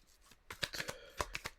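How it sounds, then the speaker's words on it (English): Tarot cards, slightly slippery, are shuffled by hand in a quick series of crisp, riffling snaps, several sharp bursts close by after a quiet start. "it's a little harder to shuffle because it is kind of slippery"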